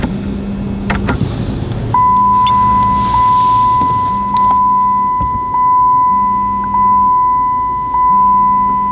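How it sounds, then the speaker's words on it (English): A 2010 Dodge Challenger's ignition comes on, giving a steady electronic tone and rhythmic pulsing chime beeps that repeat at regular intervals over a low hum, loud and close, with a few clicks at the start. "And turn the ignition on."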